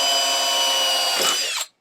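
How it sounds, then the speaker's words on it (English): A power drill bores mounting holes in a Jeep Cherokee XJ, whining steadily and loudly for over a second before the motor cuts off abruptly. "So we want to mark our 4 holes here so we can drill them out."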